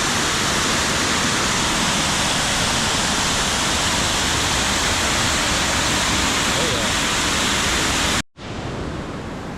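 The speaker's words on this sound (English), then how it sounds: "That's quite the waterfall. Lots of water." A powerful waterfall roars as a loud, steady broadband rush of falling water, continuous for most of the stretch before cutting out abruptly near the end and resuming slightly quieter.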